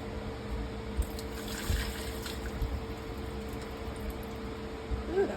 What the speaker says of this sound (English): let's go to the sink and drain.